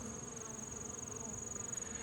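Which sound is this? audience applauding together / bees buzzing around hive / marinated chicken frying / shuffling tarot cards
bees buzzing around hive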